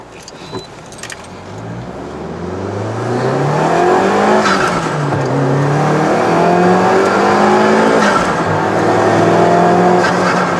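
A 2001 Nissan Silvia S15 Spec R engine revs and accelerates, pitch climbing steadily through gear changes toward 100 km/h, loud and close with road noise building throughout.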